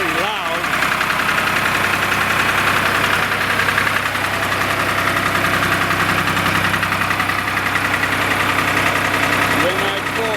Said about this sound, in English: I started the loader, Russell.